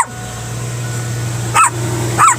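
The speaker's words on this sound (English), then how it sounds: "You're barking at people's ears" Two short dog barks, a second or so apart, over a steady low engine hum.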